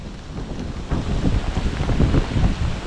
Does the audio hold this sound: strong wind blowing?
yes